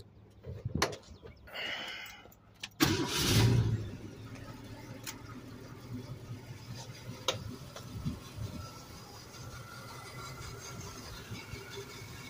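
Hidden headlight doors on a 1968 Mercury Cougar XR7 open with a short mechanical whirring clatter and a few clicks, fairly close, followed by quiet ambience with faint ticks.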